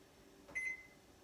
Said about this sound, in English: I press the timers